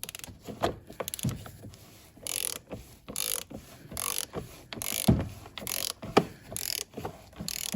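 A hand ratchet tightening a 27mm socket back on during a Citroen C3 Picasso oil change, clicking in quick repeated bursts of pawl ticks with short pauses between strokes, close and clear with no talking.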